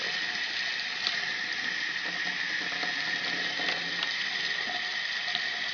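Steady rush of water running from a tap, a constant hiss with faint splashing, no voices.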